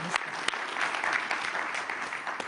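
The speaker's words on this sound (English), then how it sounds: "Please join me in a big round of applause for a very inspiring panel." Audience applause fills a conference hall after a climate panel discussion, a steady, dense round of clapping held at even strength with a few sharper individual claps standing out.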